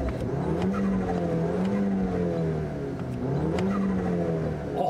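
Turbocharged Audi A4 B8.5 fitted with a cold air intake revs hard in a steady, loud roar, with rising and falling engine pitch and a breathy intake whoosh across the whole run, with no talk.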